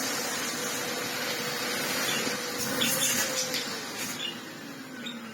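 A vacuum cleaner with strong airflow runs steadily and close by, a continuous broad whooshing drone with a faint whine that holds level and eases slightly toward the end.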